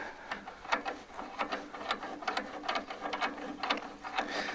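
A small nut is spun by hand onto a stay rod on a restored 1955 International Harvester Farmall Cub tractor, making quiet, close metallic clicks and ratcheting ticks in an irregular rhythm.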